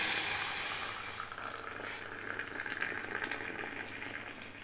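Freshly boiled water is poured into a glass for bullet coffee as a steady close gushing hiss that slowly fades.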